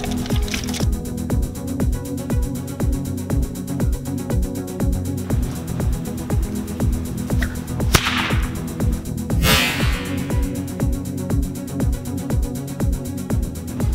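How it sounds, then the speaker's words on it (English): A whip strikes a red plastic cup holding a little water, with rapid evenly spaced cracks continuing throughout and two louder splashy impacts near the middle. "we'll whip a red cup with just a bit of water"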